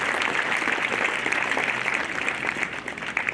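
An audience claps for the chief guest at a ceremony at AIC Nyakach Girls High School, a dense, steady wash of many hands filling the whole stretch at a fairly loud level.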